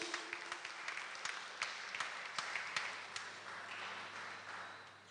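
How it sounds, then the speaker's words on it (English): Applause from an audience at a political party's annual conference rally: a steady wash of many hands clapping, with scattered louder claps on top and no talk. "And I know you clapped just now"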